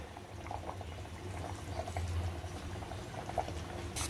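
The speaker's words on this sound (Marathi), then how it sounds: "आपलं कालवण चांगलं उकळलेलं आहे. झाकण वगैरे दिलं नव्हतं, ओपनमध्येच उकळत ठेवलेलं आहे." Tuna fish curry boils uncovered in an open pot, giving a steady, close bubbling simmer with soft pops throughout and no talk.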